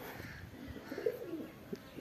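Pigeon cooing faintly from a perch up above, a few soft low coos over quiet outdoor background, distant and brief.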